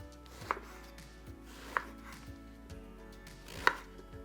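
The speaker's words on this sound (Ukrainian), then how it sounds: "Очищені таким чином баклажани ріжемо на кубики" A knife strikes a cutting board in a few sharp, separate chops while cubing eggplant, spaced unevenly and close up, with a soft room hum underneath and no speech.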